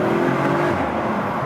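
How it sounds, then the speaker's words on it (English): An Audi RS5 or BMW M4 engine pulls hard and loud inside a tunnel, its steady roar briefly dipping then carrying on as the car upshifts, with echoing reverberation around it. "that was a nice upshift here. That sounded very nice."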